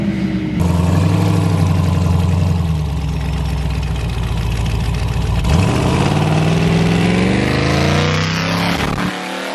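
Ultra4 off-road race car engine revving hard, loud and close, holding a steady idle-like drone before a brief stumble and bog as the throttle is hit, then climbing in pitch as it revs up and cuts off.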